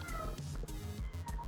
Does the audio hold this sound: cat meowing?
yes